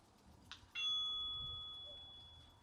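A Eufy video doorbell gives two short clicks, then a clear electronic tone that sustains and slowly fades, sounding alone in a quiet indoor room.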